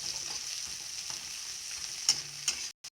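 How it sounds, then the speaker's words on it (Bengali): Onions and green chillies fry in a pan with a steady, close hiss of oil and a few sharp stirring clinks, and the sound breaks off abruptly just before the end. "কাঁচা মরিচ আর পেঁয়াজটা আমরা এবার সোমবারে ঢেলে নিচ্ছি করে ভেজে নিচ্ছি এবার পেঁয়াজটাকে"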